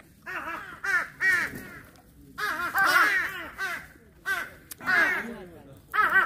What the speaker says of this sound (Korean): 저 위에 정상에 있는 까마귀까지 다 오겠는데.